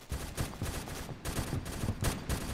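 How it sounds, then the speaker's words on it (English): Rapid bursts of automatic gunfire in a Roblox Phantom Forces match, a steady rattling stream broken by short gaps, loud and close with no voices over it. "who was shooting from over there?"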